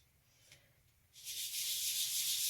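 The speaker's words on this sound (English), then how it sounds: "I might put the sandpaper down" Wet sandpaper rubbing over a jesmonite terrazzo candle holder, a steady close, bright abrasive swish that starts after a quiet moment and keeps going in continuous strokes.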